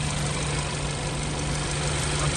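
Hyundai Tucson with a 1.6 turbo GDI engine idles steadily with the hood open, a loud, even hum with a low drone and no voices.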